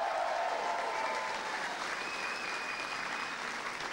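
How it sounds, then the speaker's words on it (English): A crowd gives sustained applause for hurling players John Conlon and Shane O'Donnell after an All-Ireland win, a dense, even wash of clapping at moderate distance. "Give them a big round of applause, everybody."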